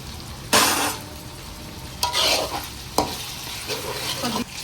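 Ginger garlic paste and tomato frying in a pan for a chicken fry, with bursts of loud sizzling as the mixture is stirred, scraping strokes coming in several separate waves and a steady low hiss between them.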